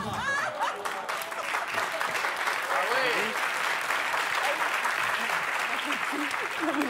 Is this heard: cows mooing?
no